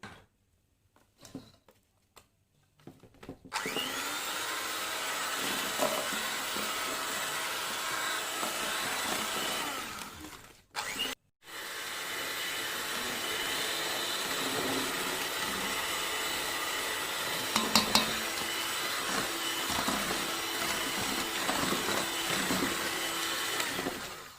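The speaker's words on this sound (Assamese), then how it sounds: "দৈখিনি দিম আকৌ ভালদৰে মিক্স কৰি লম" Electric mixer whirring through cake batter with curd for an eggless chocolate cake: a loud, sustained motor whine that cuts out briefly partway, then runs on steadily without talk.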